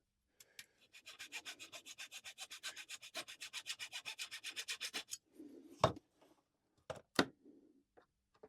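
Rapid, regular rasping strokes as a channel for a pickup is cut into cigar box wood, about two dozen close, even scrapes, then a pause and a few louder isolated knocks and rubs.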